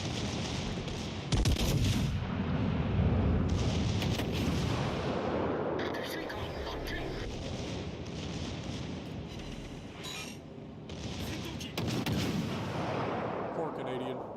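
Naval guns fire in the World of Warships Legends video game, with heavy booming salvos and rumbling blasts that overlap in a dense, continuous barrage, loud and close throughout.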